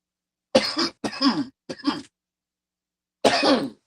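Several harsh coughs in quick bursts, close and loud, with a pause before a final rough coughing fit.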